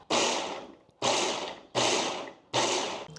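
A food processor pulses in four short bursts to chop fresh turmeric into coarse bits rather than a paste, each burst starting abruptly and fading before a brief pause, evenly spaced and close.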